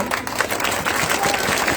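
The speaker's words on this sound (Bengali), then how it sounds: "আমরা তাদের জন্য একটা বড় ধরনের একটা হাততালি দেব।" A crowd at a local village football match applauds the winning team, a dense, steady wash of clapping filling the whole short stretch, with a faint voice mixed in.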